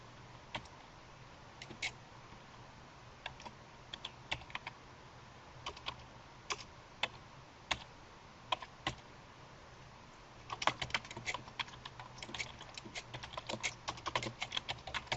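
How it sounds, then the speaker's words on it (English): Light, quiet keystrokes on a computer keyboard enter a page number: scattered single taps at first, then a quicker, denser burst of typing near the end, with no talking. "typing in a page number"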